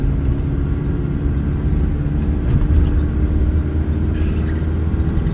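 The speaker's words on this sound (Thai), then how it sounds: "ขึ้นสะพานนะครับ สะพานนี้ค่อนข้างสมบุกสมบันนะครับ ทดสอบช่วงล่างเลยนะครับ" Steady low road rumble of a 2003 Nissan Frontier 3.0 four-door pickup driving over a rough bridge, with a brief clatter midway and faint higher noise toward the end; no voices.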